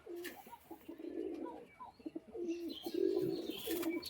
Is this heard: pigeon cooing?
yes